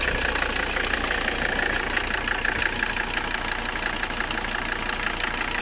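A Mercedes 300CD engine runs steadily at idle, a continuous close mechanical rumble with a rattling, knocking texture and mild vibration, no talking.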